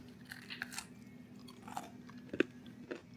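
Quiet, close-up crunching as homemade pork crisps are chewed, with a few sharper bites standing out over a low steady hum.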